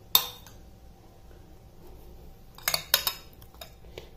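A spoon scrapes and clinks against a bowl while masala is mixed into potatoes and mushrooms for chilli garlic Korean potatoes. A sharp clink opens, then a quiet stretch, then a cluster of close clatters and one last tap.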